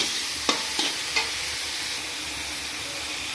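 Chow mein fries in a pan and is stirred, giving a steady close sizzle with three sharp utensil scrapes near the start and no talk.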